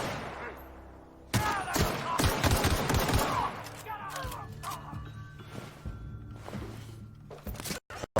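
Gunfire in The Outer Worlds video game: a loud burst of rapid shots and fusillade after a quiet start, then scattered clacks and further sharp shots, with a voice speaking briefly.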